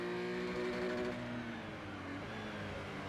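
A Porsche race car engine sits bouncing off its rev limiter during qualifying, a steady, buzzing high-rev drone with faint stutter, moderately distant and continuous throughout.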